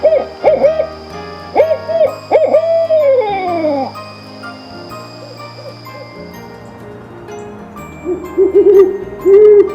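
Owl hoots ring out in short repeated bursts, a few descending calls, then quieter stretches before more hooting near the end.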